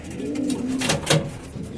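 Pigeons coo at a loft housing adult racing birds, several soft rolling coos overlapping close by, with a rustle of wings and movement underneath.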